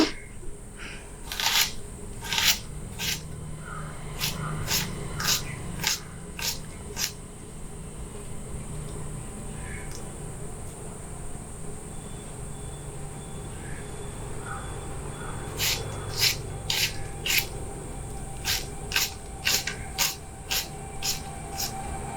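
Onions are sliced into thin strips with a knife, the blade tapping a board in quick bursts of crisp, evenly spaced cuts, then a pause, then another rapid run of close, clear cuts over a low background.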